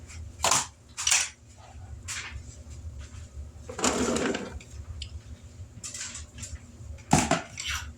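Cut butternut squash pieces dropping into a soup pot, a few separate thuds and clatters spread across the clip, one longer scraping tumble in the middle, over a steady low kitchen hum.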